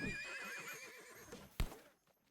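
A horse whinnies in Disney Infinity 3.0 Gold Edition, a single long wavering neigh close up, ending with a sharp thud and fading out.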